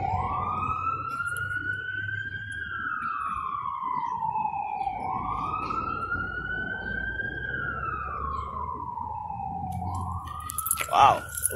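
Fire engine siren as Ladder 9 and Engine 26 arrive, a loud wailing tone rising and falling in long sweeps, with a sharp horn blast near the end.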